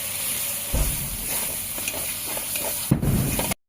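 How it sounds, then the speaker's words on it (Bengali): Chana masala spices with chili powder sizzle and stir in a hot pan, a steady close frying hiss broken by a few louder stirring scrapes, with no voices. "এবার এটাকে ভালো করে কষাবো।"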